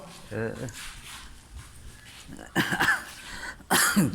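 Several harsh coughs, close by, in short bursts separated by pauses, with faint voices nearby.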